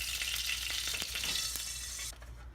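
Pork tenderloin sears in a hot pan with a bright, crackling sizzle and scattered pops, steady and close, easing slightly at the end with no talk.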